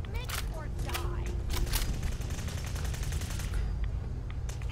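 Rapid gunfire in Fallout 4's Nuka World, repeated sharp shots in quick bursts over a low rumbling background, with a player talking through it.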